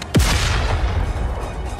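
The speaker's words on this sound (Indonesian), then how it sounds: "tiba-tiba ledakan terjadi" A single sudden explosion boom used as a sound effect, a sharp loud onset followed by a rumbling roar that lingers and slowly fades.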